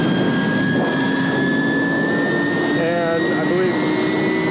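Wind buffets the microphone outdoors beside a Stark Varg electric motorbike, a loud continuous roaring rush that runs throughout, with someone speaking over it.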